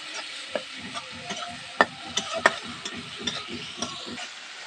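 Meat masala spice paste stir-fried in a pan for a spicy okra dish, a close crackling sizzle with repeated scraping strokes of a spatula and a few sharp metallic clinks, steady and without talk.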